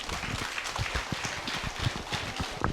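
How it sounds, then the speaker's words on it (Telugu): Audience clapping at a Pyramid meditation celebration event for Patriji Day in Kothapet, a steady crowd round of applause with scattered claps over a low room murmur. "నిజంగా మీ ఓపికగా మెచ్చుకొని ఒకసారి గట్టి క్లాప్స్ అండి"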